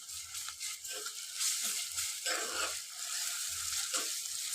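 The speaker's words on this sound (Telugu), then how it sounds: "ఇప్పుడు ఇది కూడా కొంచెం ఇందులో ఫ్రై చేసుకోవాలి మనము." Ginger paste and turmeric fry in a pan for a mixed vegetable biryani masala curry, a soft, steady sizzle close by with occasional scraping stirs, no talking.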